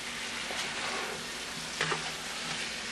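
About two pounds of andouille sausage cooks in a pot for jambalaya, giving a soft, steady sizzle with a couple of brief utensil clinks partway through.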